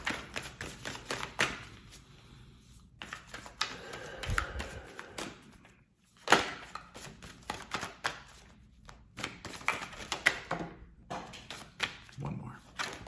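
Tarot cards being shuffled and drawn in a reading: a string of close, sharp riffling and slapping bursts with brief pauses between them, under and between spoken talk.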